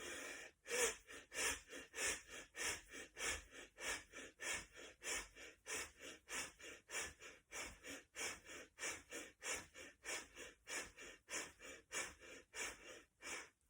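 Deep, forceful rhythmic breathing during a guided breathing exercise, rapid even inhale-exhale cycles repeated many times close to the microphone.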